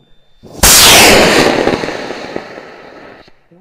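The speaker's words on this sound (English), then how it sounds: "Fire, smoke, and rockets away." An amateur rocket lifts off at the WARS Grass Valley launch with a sudden loud roaring burst of motor ignition that rushes at full strength, then slowly fades and thins over a few seconds.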